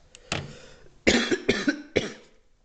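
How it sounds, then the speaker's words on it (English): A short burst of several dry coughs, close and fairly loud, with a small sound before them. "sorry about that, I had a cough there"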